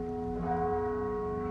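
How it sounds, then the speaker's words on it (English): Church bells peal in the colonial city of Guanajuato, Mexico, a sustained ringing tone with steady overtones filling the square, carrying on without a break and with no voices heard. "Echoes of Mexico's colonial past ring out daily through Guanajuato's squares, stepped neighborhoods, and winding streets, as church bells peal"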